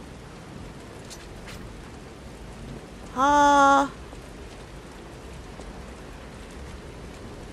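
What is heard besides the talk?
rain at night in the video game Lies of P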